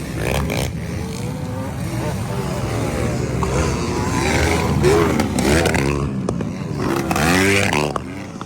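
Enduro motorcycle engines rev and whine close by as bikes race past in a local enduro heat, with a commentator talking excitedly over the roar.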